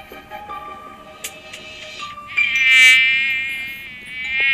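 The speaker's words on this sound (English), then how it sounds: "Mosquito!" Game mosquito sound effect in Plague Inc: a high, thin whining buzz that swells loudly midway and rises again at the end, over faint background tones.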